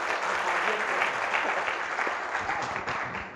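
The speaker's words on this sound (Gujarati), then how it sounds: "જોરદાર તાળીઓ શ્યામભાઈ માટે." An audience at a Gujarati poetry gathering in Godhara claps for the poet Shyambhai, dense, even applause filling the room throughout, with faint voices mixed in.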